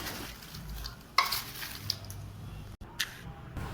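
Masala is stirred by hand into freshly fried hot potato chips, a close scraping and tossing with a few sharp clinks of utensil on the bowl, no voices.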